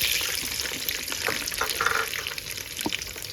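A cup of chopped onions hits hot oil left over from browning paneer for a paneer masala curry and sizzles loudly and close, with crackles and stirring scrapes throughout.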